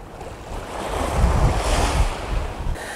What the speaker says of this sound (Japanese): こう内海だから波もすごく穏やかだし